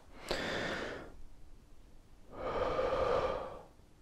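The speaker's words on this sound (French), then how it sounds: "on peut prendre une respiration comme ça." Two demonstrated shallow breaths, each a soft airy rush lasting under a second, close and quiet, separated by a brief silence with no talking.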